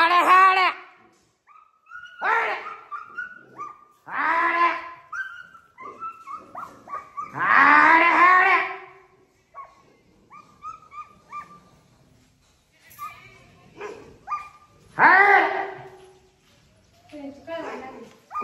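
Village dogs fight in bursts of loud barking, snarling and whimpering, several harsh outbursts separated by short pauses.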